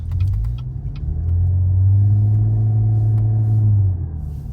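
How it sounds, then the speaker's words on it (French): A car on its first drive gives a steady, close engine rumble that swells and holds as it pulls away, then eases off near the end, with faint rattles on top. "Premier tour de roue. On est dans une vraie caisse."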